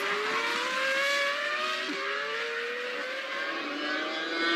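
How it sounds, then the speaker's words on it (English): Formula 1 race cars from the 2000 season scream through the first corner while overtaking, a continuous high engine whine with rising and falling pitch from several cars, heard from a distance and fairly faint. "The first corner was the favourite place for overtaking, this time Trulli past Irvine for 5th"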